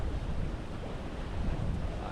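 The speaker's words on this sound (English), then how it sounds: "Oh, the ocean." Ocean surf at Rock Sound on Eleuthera, a steady broad wash of waves mixed with gusty wind buffeting the microphone, continuous and fairly loud with no distinct breaks.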